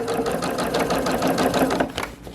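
A sewing machine stitches a seam on a fabric sun hat, running steadily close by with a fast pulsing needle chatter, without pause for a couple of seconds.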